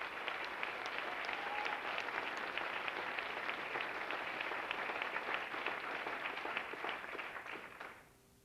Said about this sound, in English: How about a nice round of applause for Alyssa Tice.